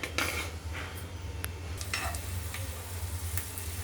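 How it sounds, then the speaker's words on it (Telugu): Peanuts frying and being stirred in hot oil in a pan, a steady close sizzle with scraping stir strokes and light clinks of a utensil, no voices. "కొంచెం పల్లీలు వేయించుకుందాం."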